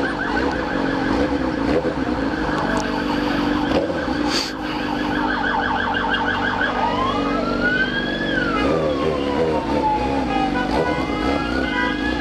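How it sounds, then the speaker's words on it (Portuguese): SAMU ambulance siren passing on a street, loud wailing sweeps rising and falling over car engine noise, with a rapid yelp pattern before shifting to slow wails as it moves by. "Vamos deixar o SAMU passar."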